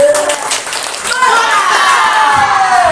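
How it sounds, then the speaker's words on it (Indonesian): A group claps together in a classroom-style counselling session on managing emotions, the applause steady and fairly close for about three seconds, mixed with shouting voices and a rising, then falling whistle-like tone. "berikan tepuk mantap"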